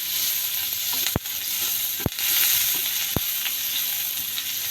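Sliced onions frying in oil in a pan for an egg and potato curry: a steady close sizzle and hiss throughout, broken by three brief sharp clicks of a utensil against the pan.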